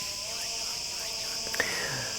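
Cicadas on a rooftop in Crete keep up a steady, shrill insect drone that runs through the whole moment at moderate volume, with faint background noise beneath it.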